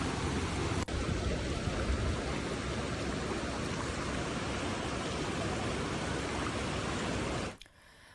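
Fast-flowing floodwater after heavy rain in Himachal rushes in a steady, loud, broadband roar that holds unbroken for several seconds before cutting away, with no voices.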